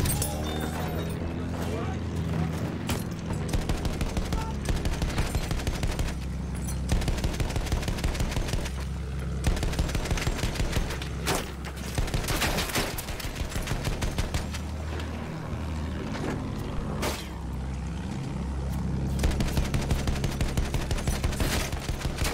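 Video game gunfire rattles almost nonstop in loud automatic bursts and single cracks, layered with game effects, with brief gaps between volleys throughout.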